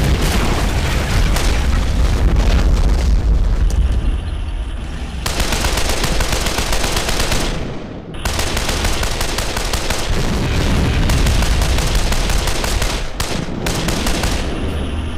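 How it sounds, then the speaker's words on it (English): WWII video game battle at Küstrin with continuous heavy gunfire, machine-gun bursts and booming rocket hits at point-blank range, loud and dense throughout with a brief dip near the middle. "direct hits from the rockets here, the crew's opened up to me, point blank range"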